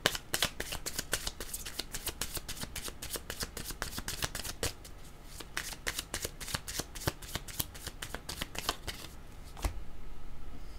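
Tarot cards being shuffled by hand, a steady close run of crisp riffling and flicking for several seconds, ending in a softer rustle, with no talking.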